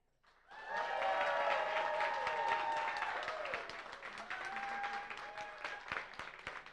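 A bar audience at an Astronomy on Tap event in San Antonio breaks into applause for a winner, rising quickly to a steady, full clatter of hands with some voices and whoops, then tapering into scattered claps.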